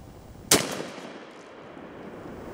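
A single loud blast from an 18-inch-barrel 12 gauge shotgun fired at a target 33 yards away outdoors, a sharp crack with a ringing tail that fades over about a second into quiet background.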